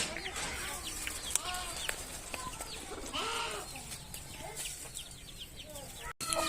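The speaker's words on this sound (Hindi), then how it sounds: "यहाँ पे देखें मुर्गी जा रही है।" A chicken walking by outdoors gives soft, scattered clucks close to the recorder over faint background noise.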